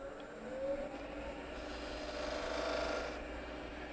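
A skew chisel making a V-cut in wood spinning on a lathe, bottoming out so it no longer cuts, giving a steady mechanical whirr with a faint rubbing, squeaky scrape swelling twice, fairly close.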